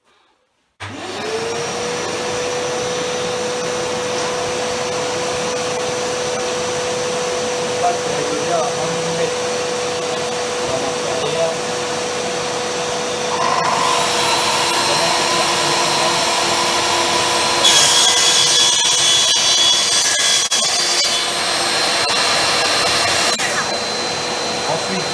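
Table saw cutting a melamine worktop, a steady motor whine running throughout with a sharper cutting noise rising partway through, loud and continuous; no speech over it.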